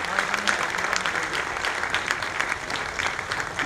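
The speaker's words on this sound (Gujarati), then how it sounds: "ત્યારે આપણે સૌ એમને તાળીઓથી આજની ઉપસ્થિતિને બિરદાવીએ" An audience claps steadily and densely throughout at a Ram Katha bhoomi pujan gathering in Surat, a continuous, fairly loud wash of applause from a large crowd.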